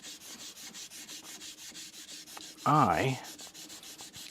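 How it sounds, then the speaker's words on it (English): A rust eraser rubs with short scrubbing strokes against a single bevel Tsubazo deba knife blade, a soft repeated abrasive rasp, close by, with a brief louder vocal sound in the middle. "Little rust eraser action."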